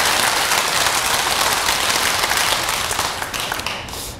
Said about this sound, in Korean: 박수 치려면 확실하게 밀어줘요.